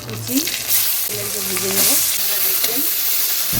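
Whole cumin, dried chillies and bay leaves sizzle and crackle steadily in hot oil for a Bengali fish-head dish, a loud continuous frying hiss with some faint voice-like tones in the background.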